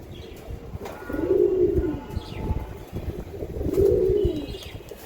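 Racing pigeons coo in two distinct rolling bouts, close and fairly soft, with faint chirps and quiet background noise between them.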